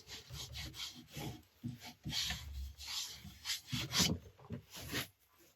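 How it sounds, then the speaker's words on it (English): A woodturning project being sanded on a lathe gives a rhythmic scratchy rubbing that pulses in repeated strokes, close and fairly quiet, with no voices. "All ready for sanding again."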